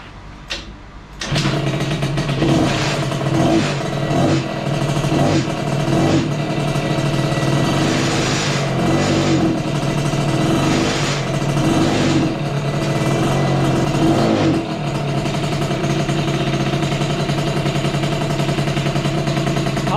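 A Yamaha Aerox moped engine runs steadily after a jet change, a loud close buzzing drone with slight unsteady fluctuations and no revving bursts, continuous throughout after a brief quiet start.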